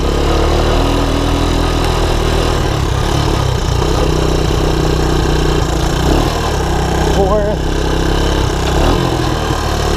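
A 1984 Honda ATC 200ES three-wheeler running under way in low gear: a loud, steady, close engine drone that holds through the whole stretch with no talking.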